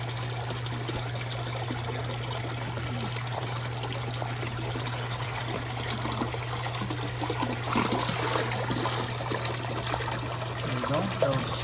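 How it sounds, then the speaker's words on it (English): Pump outlet water pours into a koi pond in winter, a steady, fairly faint trickling rush that holds evenly throughout over a low constant pump hum. "They dampen the noise if the water goes straight into the pond."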